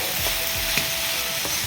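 Lofa greens fry with fish and elephant apple over a village fire, a loud close sizzle broken by rhythmic scraping strokes of a spatula stirring the pan.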